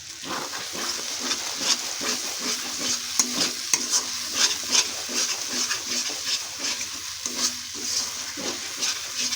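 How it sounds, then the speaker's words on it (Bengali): Grated potato is stirred in a hot frying pan during the making of a vegetarian stuffed potol dish, with a steady oily sizzle and repeated scraping strokes of a spoon close by. "এবার এর মধ্যে আমরা দিয়ে দেব গ্রেট করা আলুটাকে। এবার এটাকে আমরা কিছুক্ষণ নাড়াবো এইভাবে।"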